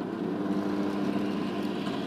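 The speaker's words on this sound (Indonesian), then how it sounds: "Untuk menaikkan putaran mesin, putar tombol gas ke arah kanan" Small engine running steadily with a coarse, buzzing drone that holds a constant level throughout, close and fairly loud with no talking over it.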